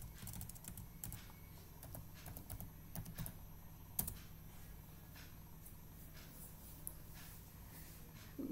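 Quiet keystrokes on a computer keyboard as a URL is typed, with irregular quick clicks in short runs against a faint steady background hum.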